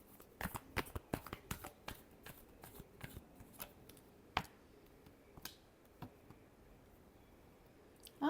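Tarot cards are shuffled by hand for a final time: a quick run of crisp card slaps, then sparser single taps. The sound is faint and close, with a louder rustle at the end.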